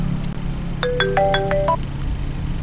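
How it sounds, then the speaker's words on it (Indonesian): A phone ringtone chimes inside a used car during an inspection, a bright melodic sequence of tones lasting about a second over a steady low engine or cabin hum. "ada telepon"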